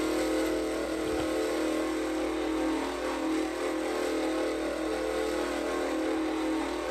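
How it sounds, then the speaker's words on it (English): A vehicle engine runs steadily and loudly throughout, with a continuous mid-range drone from the exhausts as it burns through fuel, close and with no talking. "Look at those exhausts, man. Just eating away all that gas. Burning off all the gas."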